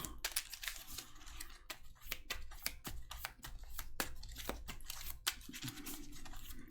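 Quiet, rapid riffling and snapping of playing cards being shuffled, a series of crisp flicks in quick bursts.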